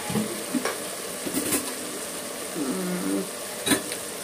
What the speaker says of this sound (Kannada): ಟೊಮೊಟೊ ಫ್ರೈ ಆಗ್ತಾ ಇರ್ಲಿ.